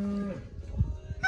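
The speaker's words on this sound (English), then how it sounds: "The cow." A cow at a North Dakota cattle branding gives a single low, drawn-out moo, close and loud at the start and fading quickly, followed by scattered thumps and handling noise before a higher tonal sound cuts in at the end.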